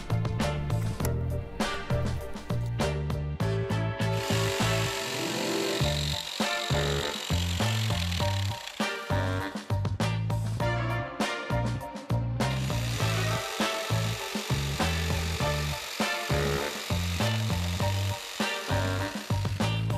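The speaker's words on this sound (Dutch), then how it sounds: "kan je een ijzerzaag gebruiken of een decoupeerzaag" A ventilation profile for Durasid cladding being cut to length with a hacksaw or jigsaw: continuous rapid rasping and buzzing with brief pauses, close and loud for the whole stretch.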